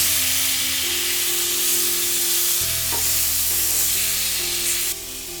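Boiled raw mango being stirred into a sizzling Bengali-style green mango chutney in a frying pan, a steady loud fry with soft stirring scrapes and no talk.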